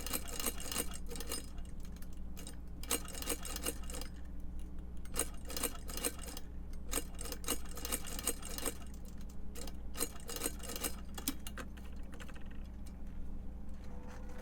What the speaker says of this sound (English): start sewing this one on